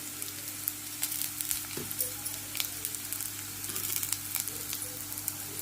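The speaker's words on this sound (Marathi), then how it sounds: "कांदा चांगला गोल्डन ब्राऊन कलर भाजी. आता ह्याच्यात हिंग घालायचं." Onion fries with asafoetida in a pan, giving a steady, close sizzle with crackling pops throughout and no voices.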